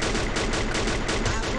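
Rapid automatic gunfire from the video game Free Fire, a loud, dense stream of evenly spaced shots filling the whole moment without pause.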